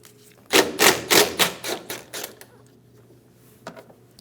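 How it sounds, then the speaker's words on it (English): A BMW X1 front strut being wiggled inside the wheel well produces a quick series of about eight close, rhythmic metallic clunks and rattles, fading out, followed by a couple of lighter knocks after a pause. "I'm going to give the strut a wiggle inside of the wheel well"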